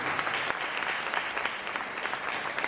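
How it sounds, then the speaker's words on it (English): Steady applause from an audience at a kindergarten graduation ceremony, a dense continuous patter of clapping hands with no talk. "Let us give them a big clap to our dear students."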